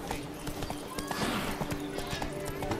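Roach the horse trotting in The Witcher 3, a quick, steady clip-clop of hooves close by, with faint ambient sound and a brief snort-like whinny in the middle.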